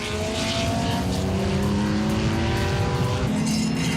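Race cars circle a racetrack with faster cars lapping slower ones, giving a loud, continuous blend of engine drones that rise and fall as cars pass.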